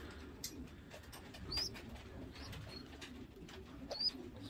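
Baby pigeons in a family loft give soft, low cooing calls at close range over a quiet background, with a few faint chirps and light rustling.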